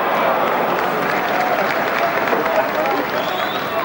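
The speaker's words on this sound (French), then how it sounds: "Et le public anglais qui applaudit" English crowd at Arsenal's stadium during a 1989 friendly against France, applauding in a broad, roaring wash of clapping and stadium noise, with a commentator talking over it.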